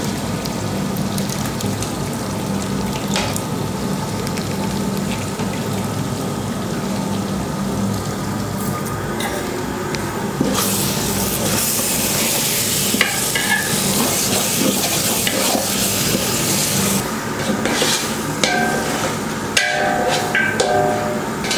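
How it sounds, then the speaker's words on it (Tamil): Mutton biryani masala being stirred and fried in a large pot for forty servings, with continuous sizzling and repeated scraping, clanking stir strokes close up, steady and loud throughout with no talking. "எல்லாம் போட்டு நல்லா வதக்கிட்டு எல்லாம் எந்த அளவுக்கு வதக்குறோமோ அதில் தான் டேஸ்ட் இருக்கும்"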